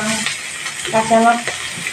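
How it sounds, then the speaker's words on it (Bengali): Whole cloves, cinnamon and cardamom sizzle in hot oil in a pan, a close, brief crackling hiss with a few light metallic clinks. "এবার এই তেলে লবঙ্গ দারচিনি এলাচ দিয়ে দিলাম"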